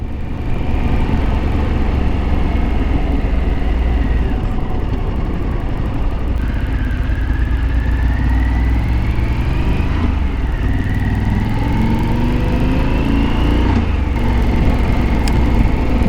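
A Harley-Davidson Pan America motorcycle engine drones steadily and loudly while riding, its pitch rising and falling with throttle changes over wind rumble, heard close up from the rider's position.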